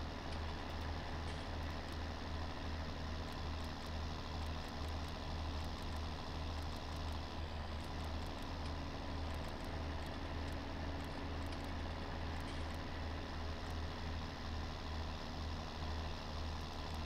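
Steady low engine drone of a farm vehicle in Farming Simulator 19, rumbling continuously at a constant, moderate level with no change in pace or pitch.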